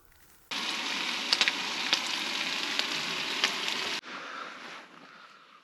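Bacon and eggs cooking over a campfire on a chilly morning: a loud, dense sizzle starts abruptly, holds steady with small pops for several seconds, then cuts to a softer crackle.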